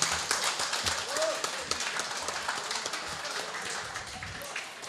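Audience applause for a diatonic accordion student from the Rošer accordion school, the reigning European champion: a dense, steady wash of many hands clapping for the whole stretch, fairly loud and even throughout.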